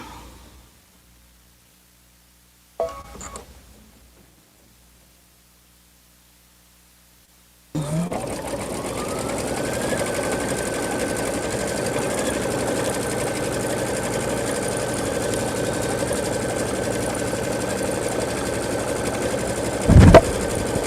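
A Brother Luminaire embroidery machine starts up after a quiet pause and stitches fabric with a steady, fast mechanical whirring hum, close and constant, with a small clunk near the end.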